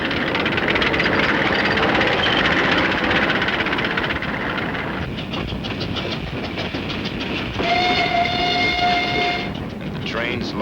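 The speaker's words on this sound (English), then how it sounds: "And the trains loaded with war wearies going back for salvage, loaded with supplies for the front." Wartime trains in Korea rolling along rails with supplies for the front and worn-out equipment for salvage, a steady rumbling clatter throughout, with a brief whistle-like tone near the end, under narration.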